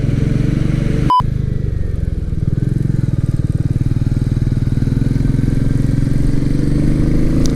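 Royal Enfield Meteor 350 motorcycle engine droning steadily while riding, a continuous close, loud single-cylinder rumble throughout with a brief sharp click near the start.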